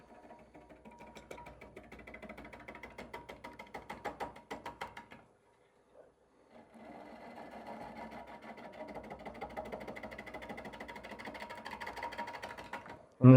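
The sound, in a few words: wood lathe rough turning a bowl, pull cut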